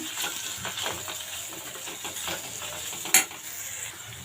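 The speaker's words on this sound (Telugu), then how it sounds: "కారం కూడా వేసుకుని ఒకసారి బాగా కలిపేసుకుందాము" A spoon stirs kara boondi curry frying in a pan after chili powder goes in, giving a continuous close sizzle with scraping strokes and one sharp metallic clink near the end.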